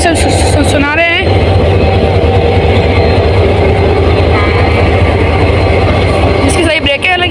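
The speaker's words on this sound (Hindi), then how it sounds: "तो इसकी अल्ट्रा साउंड है जो अभी हम उसे सुना रहे हैं।" A Pakistan Railways diesel locomotive idles at a platform, a loud, steady low rumble and drone that holds throughout, close by, with a voice speaking over it at the start and end.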